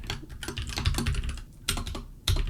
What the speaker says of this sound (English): I'm gonna just type in axolotl coloring book